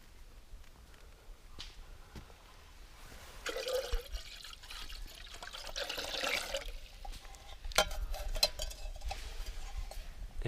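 Melted snow water with a little silt is scooped slowly into a cup, giving faint, quiet trickles and small drips. The splashes swell a little partway through, and no one speaks.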